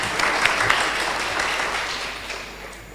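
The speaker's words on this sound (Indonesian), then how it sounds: "Tepuk tangan untuk kita semua." Audience applause at an Indonesian talk on child abuse with orphanage staff and students present, a steady broadband patter of clapping lasting the whole stretch and slowly tapering off near the end.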